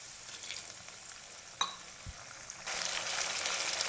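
Plantain pieces fry in hot oil with a quiet crackle and a single clink. When plain water is sprinkled into the pan, a loud, dense sizzle erupts and holds steady.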